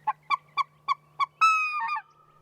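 A young white-fronted goose calls five short honks in an even rhythm, then gives a longer, higher, drawn-out squealing call, close and clear against a quiet background with a low steady hum.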